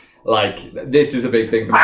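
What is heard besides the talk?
dog barking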